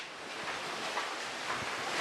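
Iguazu Falls in Argentina roaring as a continuous broadband wash of falling water, loud and unbroken with no pauses or voices.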